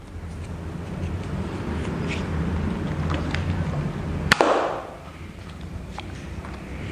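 A Nerf Nanofire blaster fires a single sharp snap over a steady background hum, followed by a brief whooshing tail.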